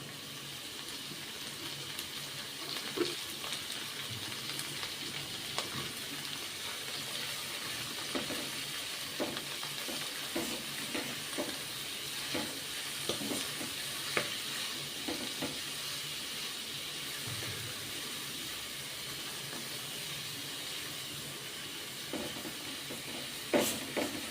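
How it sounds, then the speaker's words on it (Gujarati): Spinach sizzles in a hot pan while being stirred for palak paneer, a steady, quiet frying hiss with scattered crackles and occasional scraping of the spoon throughout. "ત્યારબાદ પાલક એડ કરીશું."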